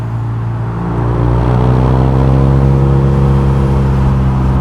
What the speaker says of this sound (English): Oh, this bike sounds so good.